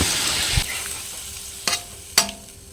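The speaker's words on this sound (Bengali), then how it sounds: "মশলা থেকে তেল ছেড়ে দিলে এর মধ্যে সবজিটা ঢেলে দেবো।" Kohlrabi tipped into spice paste frying in oil in a pan for a rohu fish curry: a steady close sizzle with two sharp clattering scrapes near the end.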